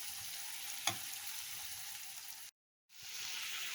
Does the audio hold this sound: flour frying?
yes